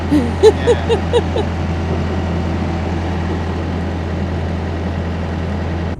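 A widebeam canal boat's engine runs at full revs against a strong river current, a steady low droning hum throughout, with a few brief higher chirps or calls near the start.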